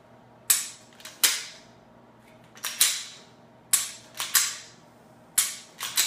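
A pistol is dry-fired over and over, each trigger press and reset giving a sharp close metallic snap, often in quick pairs, with short gaps between the strikes.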